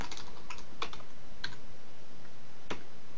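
Keystrokes on a computer keyboard while writing a JUnit test case class, a handful of separate clicks spaced irregularly over a few seconds, close and fairly quiet against a faint background hiss.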